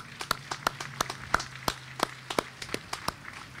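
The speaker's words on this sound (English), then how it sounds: "I want a round of applause for the staff" Sparse applause from a church congregation at a meeting: a handful of separate claps, fairly close and uneven, with a faint steady hum underneath.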